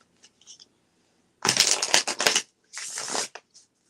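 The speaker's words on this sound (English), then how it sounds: "I kind of shuffle until I feel like I've done it enough." Tarot cards are shuffled in two rustling, riffling bursts, close and crisp, with a few faint taps before and after in an otherwise quiet room.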